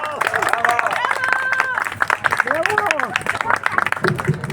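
A street march crowd in Poland claps and cheers, a dense ongoing wash of applause mixed with shouting voices and outdoor crowd noise throughout.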